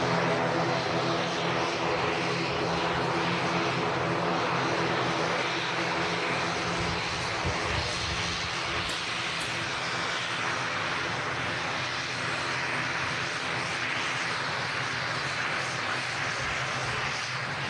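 Propeller aircraft at Manchester Airport, a loud continuous engine drone with propeller hum that holds steady for the whole stretch, close and dominant.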